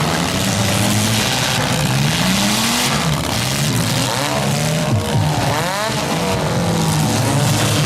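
Demolition derby cars at a 2024 mini smash heat in Schomberg, engines revving and roaring loudly and continuously, with rising and falling revs and a crowd-filled outdoor arena din throughout; no distinct single crash stands out.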